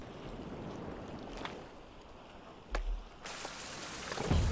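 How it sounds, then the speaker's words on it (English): Steady rain patters across an island in the Survival: Fountain of Youth game, a quiet, even hiss broken by a few brief thuds, growing slightly brighter near the end. "And it's raining, perfect."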